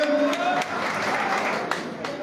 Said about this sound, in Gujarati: તાળી પાડવાથી તમને ક્યાંય ફાયદો નથી.